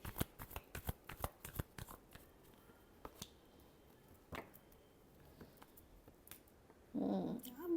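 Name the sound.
tarot cards being shuffled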